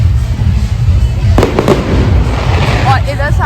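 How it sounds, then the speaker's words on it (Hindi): Fireworks and firecrackers bursting at a Bonfire Night fair in the UK, a cluster of sharp bangs and crackles over dense crowd noise, with a voice speaking nearby and fizzing whistles toward the end. "ओहो, कितने फायर क्रैकर्स हो रहे हैं।"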